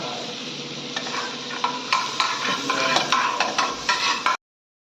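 Garlic frying in butter in a wok hisses steadily, with repeated scrapes and clinks of a spatula against the metal before the sound cuts out abruptly near the end.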